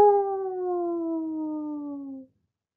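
A person's voice imitates a dog howling at the moon: one long, close, sustained howl that slowly falls in pitch and stops abruptly after about two seconds.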